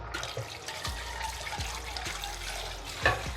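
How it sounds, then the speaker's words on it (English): Water runs steadily from a tap into a cooking pot in a kitchen, a continuous close splashing stream with faint knocks underneath. "I'll just put water on fire for my Semo Vita."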